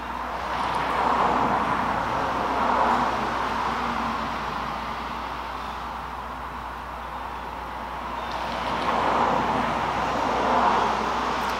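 Road traffic noise rolls past outdoors beside a garden, a broad steady roar that swells and fades as vehicles approach and recede, loud and continuous with no voices.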